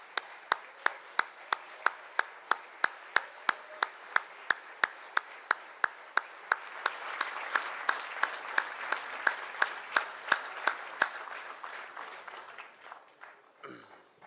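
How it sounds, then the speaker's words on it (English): An audience gives applause and a standing ovation for Suzuki-san, beginning with slow, regular rhythmic claps that grow into dense, sustained clapping before tapering off, moderately loud in a large room. "a big round of applause and a standing ovation for O Suzuki-san"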